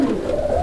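Pigeons at a native pigeon farm coo in a low, steady murmur, one soft continuous call lasting under a second with no talk over it.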